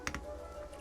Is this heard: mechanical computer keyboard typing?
yes